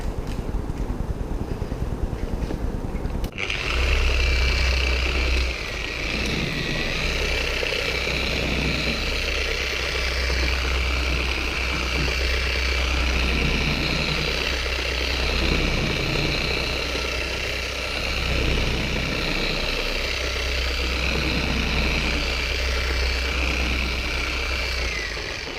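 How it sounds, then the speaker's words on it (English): A dual action car polisher set to speed 1 works a car's paint during claying, starting after a few seconds and then humming steadily and close for the rest of the time. "And all you do, guys, is set polisher speed 1."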